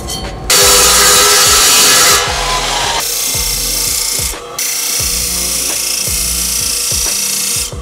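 A titanium part for a custom fuel cell is cut with a power tool, giving a loud, harsh grinding rasp in long continuous passes with short breaks between them.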